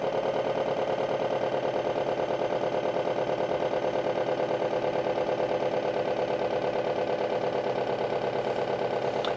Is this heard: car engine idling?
yes